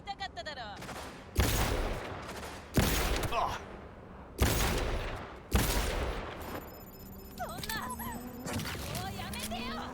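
Gunfire in Cyberpunk 2077: a sequence of sharp, loud shots spaced a second or two apart, each ringing out before the next, with softer rapid bursts and electronic game sounds toward the end and a voice talking over it.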